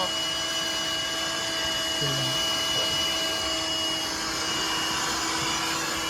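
A vacuum cleaner runs steadily throughout while cleaning a car interior, a constant close motor whine with a brief lower burble partway through.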